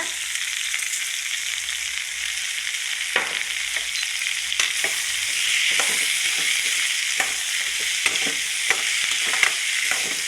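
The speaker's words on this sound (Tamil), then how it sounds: "தக்காளி நல்லா வதங்குறதுக்காக கல் உப்பு கூட இப்போவே ஆட் பண்ணிக்கலாங்க" Tomatoes with rock salt sautéing in a pan, a steady close hiss of frying with occasional light stirring scrapes, continuous and even throughout with no talk.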